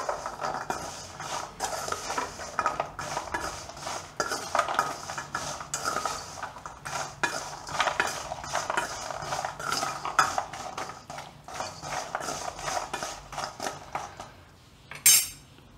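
Masala cashews stirred in a pan with a metal spoon after chaat masala is added, a long run of close, rhythmic scraping and clinking of spoon against pan at moderate volume, with no talk.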